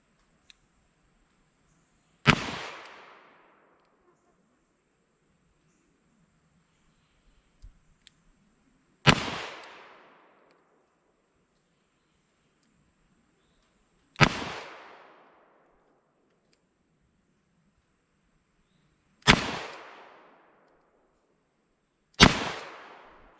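Five sharp, loud revolver shots from an S&W .357 Combat Magnum Model 66 fired double action outdoors, each a single crack with a short decaying tail, spaced several seconds apart with near silence between.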